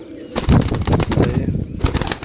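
Pigeons held for sale in Sarai Alamgir, Jhelum, beat their wings in several close, loud bursts, with soft cooing between the flaps.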